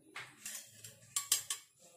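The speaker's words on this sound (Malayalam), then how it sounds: "ഒരു പാൻ അടുപ്പത്ത് വെച്ചിട്ട്" A pan set down on a kitchen stove before cooking an evening snack: a handful of light metallic clinks and taps, close and fairly quiet, spread over a couple of seconds.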